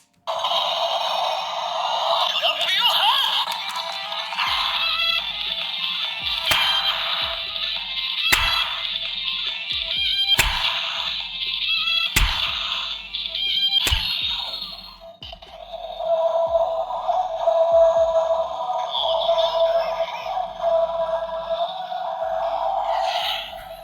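Electronic jingles and chimes from a toy transformation ring for the Gozyuger Wolf play steadily with bright tonal beeps, punctuated by several sharp clicks, then a lower buzzing tone carries on near the end.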